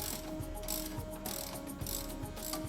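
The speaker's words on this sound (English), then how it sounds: "Remove the sway bar end link to the shock mounting bolt." A ratchet loosens the sway bar end link bolt on the shock of a Porsche Cayenne, VW Touareg or Audi Q7 during front air spring replacement. The close, rhythmic clicking runs steadily in repeated strokes.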